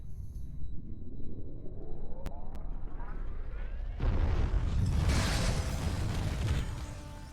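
A booming cinematic explosion in the video game Legend of Spyro: Eternal Night, a loud sustained rumble that swells with a bright crackling burst midway and holds to the end.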